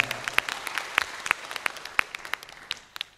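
Applause from high school student council members at an anti-corruption outreach session, a brisk spatter of hand claps from a moderate crowd with several sharp, close claps standing out, fading slightly toward the end.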